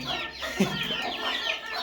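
Chickens clucking close by in a farmyard, a steady jumble of soft overlapping clucks with one slightly louder call.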